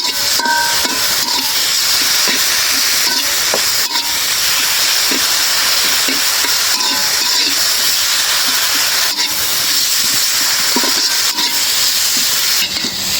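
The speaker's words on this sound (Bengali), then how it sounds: "একটু সরিষার তেল দিয়ে ভাজা ভাজা করে নিই।" Loud, continuous hissing sizzle of food frying in mustard oil for a Manikganj-style khichuri meal, steady and close with occasional crackles and pops.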